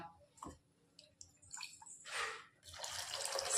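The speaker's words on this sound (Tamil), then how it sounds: "நமக்கு வந்து எந்த அளவுக்கு தண்ணி வேணும் அந்த அளவுக்கு வாட்டர் ஆட் பண்ணிக்கலாம்" Water is poured into a pot of white salna being cooked, a faint trickle and splash that builds into a steady pour, with a few light drips first.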